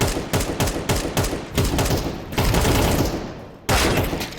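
Rapid bursts of gunfire in Counter-Strike 2, loud, close shots in quick repeated volleys with brief gaps and no talk.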